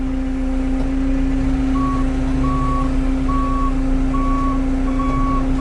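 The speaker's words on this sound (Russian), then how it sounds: "Сейчас я маленько отъеду, чтобы дать ему хода." A new Dynapac road construction machine moving off with an automatic transmission, its steady engine drone loud and close, with a repeating reverse-style warning beep sounding at even intervals over the top.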